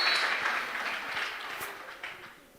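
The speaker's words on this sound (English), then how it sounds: "A big round of applause." Audience applause at a university international dinner, a broad wash of clapping that starts loud and gradually thins and fades over a few seconds, with no talk on top.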